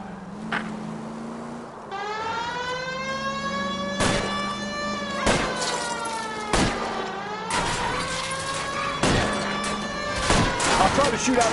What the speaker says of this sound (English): I'll try to shoot out his tires